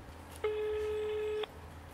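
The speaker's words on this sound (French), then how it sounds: "Et oui, le téléphone sonne." A single electronic telephone ring sounds for about one second on a radio call-in show, clear over a quiet background hum.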